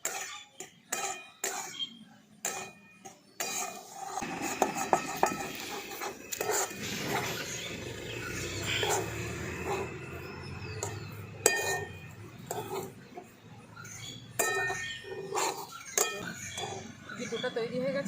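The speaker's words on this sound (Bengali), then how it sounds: "সুজিটা দিয়ে এইভাবে নাড়াচাড়া করে একটা ডো বানিয়ে দেবো।" Semolina being stirred into water in a pot to form a dough, heard as intermittent clinks and scrapes of a spoon against the pan with some background talk.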